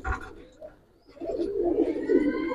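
Pigeons at a Bengali pigeon farm keeping Giribaz and coloured breeds coo in low, soft murmurs that build and overlap, fairly close, after a brief bird call at the start.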